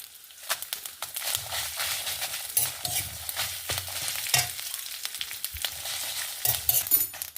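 A tablespoon of mustard seeds with neem leaves and pepper roasting in a pan, busy stirring scrapes and light crackling sizzle, close and fairly loud.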